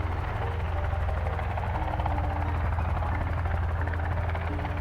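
Helicopter in the survival game Sons of the Forest, a steady loud rotor drone with a constant low throbbing hum and even buzz, holding at unchanging level throughout with no talk over it.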